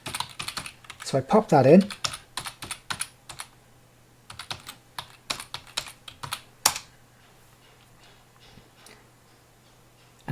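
Typing a username and password on a computer keyboard, quick clusters of close, crisp key clicks in bursts with pauses, followed by a sharper keystroke and a short spoken remark.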